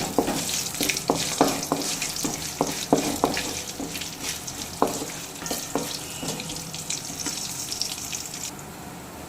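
Asafoetida powder being stirred in hot oil in a pan, with a steady broadband hiss and a series of sharp scraping clicks from the spoon, close and fairly loud.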